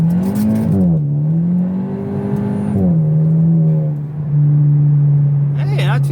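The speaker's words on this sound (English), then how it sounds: "Let's give it a nice little 1-2 shift." A Hyundai with a dual-clutch transmission, freshly filled with Red Line fluid, revs steadily under acceleration, engine note dropping smoothly at the 1-2 shift then pulling on, loud and close from inside the car.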